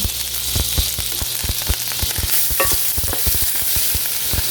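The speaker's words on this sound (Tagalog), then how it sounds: "Tunawin lang natin yung butter." Butter melts in hot oil in a frying pan at the start of a Filipino macaroni spaghetti, making a loud continuous sizzle with frequent scraping stirs and taps close by.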